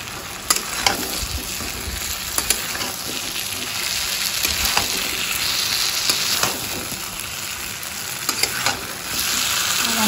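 Masala with pigeon pea (arhar) dal is roasted in a pan. A loud, steady crackling sizzle runs throughout, broken by frequent scraping stir strokes and light clicks of a spoon.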